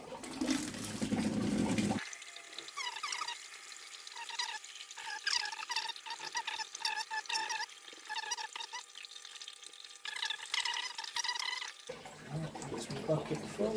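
Water siphoned from the bottom of a pond tank pours steadily into a bucket, a continuous close splashing and trickling flow that runs throughout with some louder gushes at the start and end.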